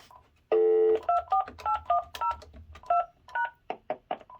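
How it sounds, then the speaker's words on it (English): A telephone dials a Vista alarm panel: a brief steady tone, then a quick string of about a dozen separate DTMF beeps, close and clean against a quiet background. "let's dial into the Vista remotely"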